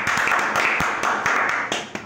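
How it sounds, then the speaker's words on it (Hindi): A room full of students claps together at a class Holi celebration, with steady, moderately fast applause from a nearby group. "एक बार ताली मारकर स्वागत कीजिए"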